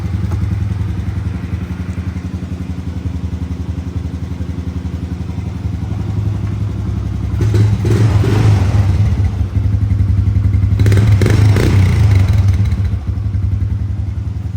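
A 1998 Honda TRX 90 ATV engine, once abandoned, runs with a steady rattling idle, then revs up twice in short bursts, loud and close with no talking.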